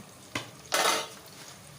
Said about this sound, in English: Stir it all very well.